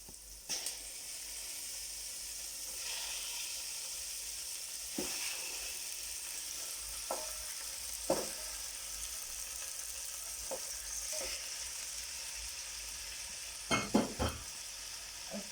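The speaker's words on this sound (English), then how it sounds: "I'm just gonna stir this a bit, just to coat the lamb in the onion as well and the butter" Lamb sizzles in a pan with onion and butter, a soft steady frying hiss running throughout while occasional scrapes and clinks of a stirring utensil punctuate it, growing busier near the end.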